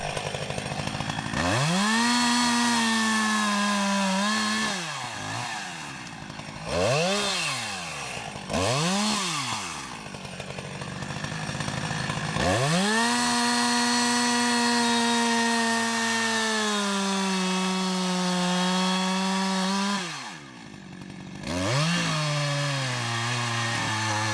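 A chainsaw cuts wood logs, its engine climbing to a loud high whine under load in several separate cuts, dropping back between them, with one long sustained cut in the middle, close by and without talk.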